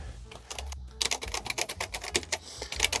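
Typing on an old AT&T computer keyboard with a spongy feel, a close, quick run of clicky keystrokes in irregular bursts after a brief pause, with no speech.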